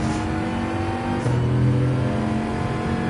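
A Bugatti Veyron in Gran Turismo 7 accelerates out of a tight corner at the Red Bull Ring, its engine a steady, loud, close drone that holds a sustained rising tone throughout without any talking.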